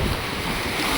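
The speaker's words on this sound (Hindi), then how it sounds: "लहरें इतनी मज़ेदार है ना यार" Ocean waves at Rameshwaram, a brief steady wash of surf mixed with wind buffeting the microphone, loud and continuous with no voices.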